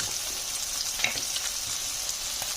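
Salmon fillets fry gently in a pan with a soft, steady sizzle and an occasional faint crackle, heard close but fairly quietly, with no one talking.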